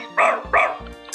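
A man imitates a dog with two loud, close woofs in quick succession, each followed by a short voiced tail, with no other sound around them.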